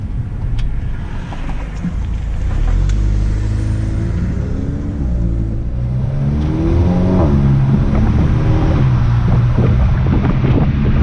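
A car with a tuned DSG transmission accelerates, its engine revving upward in a steady rising drone with audible gear changes, heard close from inside with some wind rush and no talk.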